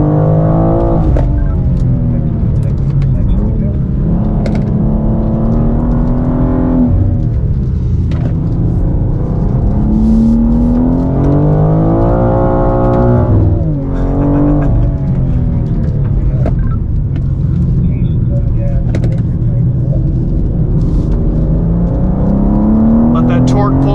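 A 2024 BMW M2 with an eight-speed automatic gearbox accelerates on a performance-driving track, its engine note rising through gears with shift breaks. The sound is loud and close, with a driver talking over it.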